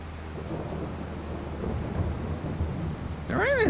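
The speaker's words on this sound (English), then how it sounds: "The rain in this game is actually not bad." Rain and rumbling thunder in a farming simulation game, a low, steady rolling wash of storm noise at moderate volume, joined by a brief sharp tonal sound at the end.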